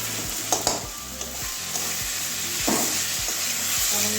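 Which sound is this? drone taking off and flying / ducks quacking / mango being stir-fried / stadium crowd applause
mango being stir-fried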